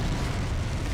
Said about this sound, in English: Wait for him to barbecue the bridge. As soon as he starts spitting fire